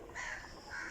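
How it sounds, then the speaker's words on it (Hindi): Village crows feeding on pieces of roti give two cawing calls in under a second, fairly faint and slightly distant, with no talking. "कौओं को जनाब रोटी के टुकड़े डाले हैं और सारे फैमिली इकट्ठी होकर आ गई है और खाने लग गए हैं"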